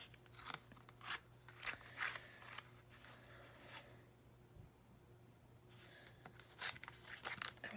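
Scissors snip and trim craft paper during a Halloween papercraft project, a run of close, quiet cuts with a pause before a few more snips.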